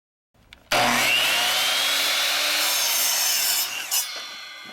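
Handsaw cutting off excess wood from a board while building a skateboard halfpipe deck, loud steady rasping strokes running continuously for about three seconds, then tapering off.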